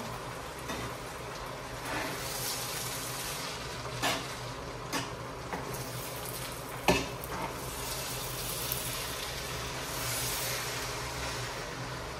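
Meat frying with spices for a Sylheti meat pilau, a loud steady sizzle running throughout with several sharp scrapes and knocks of a spoon against the pot.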